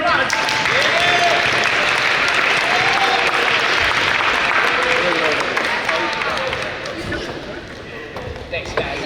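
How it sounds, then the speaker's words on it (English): A crowd applauds loudly and continuously, the clapping easing off near the end while a voice speaks over it. "let's give them another round of applause"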